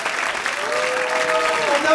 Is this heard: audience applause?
yes